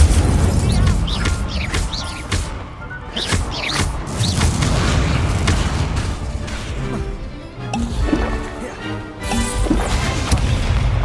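Incendio fire spell being cast repeatedly in Hogwarts Legacy, dense bursts and crashing impacts layered with game music and effects, loud and continuous throughout.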